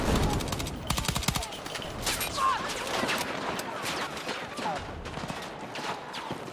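Rifle fire in the video game Battlefield 6, rapid sharp cracks in bursts and volleys over faint background clatter, moderately loud, with no voices.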